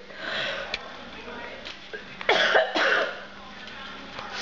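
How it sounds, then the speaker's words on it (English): A few close, abrupt coughs from an elderly woman with a throaty rasp and a sniff, set against quiet room noise. "Grandma's got a cough and she can't hold it."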